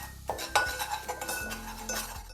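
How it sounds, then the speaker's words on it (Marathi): Koli masala with turmeric is sautéed in oil in a pan. Metal utensil clinks and scrapes ring out against the pan over a faint sizzle, in a few irregular strokes. "कोली मसाला तेलामध्ये परतवून घेते"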